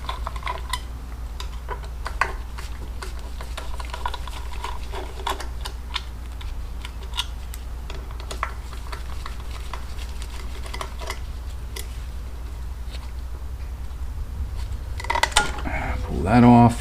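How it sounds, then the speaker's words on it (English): Torx screws come out of the air cleaner assembly on a 2006 Harley Ultra Classic motorcycle, heard as light metallic clicks and ticks from the driver, close up, over a steady low hum with scattered taps. "And I got to remove these 3 screws."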